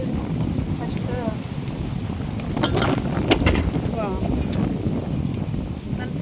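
Strong wind blows outdoors at a farmhouse, buffeting the microphone with a constant loud low roar. A person talks over it.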